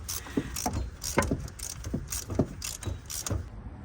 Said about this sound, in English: Tighten up that bolt on the tensioner.